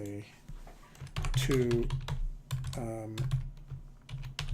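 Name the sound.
typing a folder name on a computer keyboard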